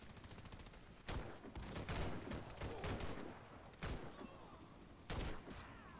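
Gunshots in the shooter game Warface come as several sharp, loud bursts spaced a second or two apart, with fainter firing and a voice talking in between.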